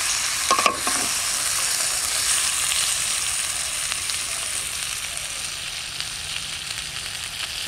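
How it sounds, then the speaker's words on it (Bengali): Country chicken meat for biryani stir-frying in a pan in a village kitchen, a steady, close sizzle with a brief scrape of stirring near the start. "ভাই এইদিকে মাংস কষাচ্ছে"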